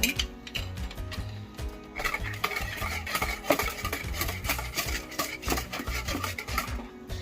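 A spoon stirring flaxseed into vegan pancake batter in a bowl, with steady, close scraping and clinking strokes in an irregular rhythm throughout.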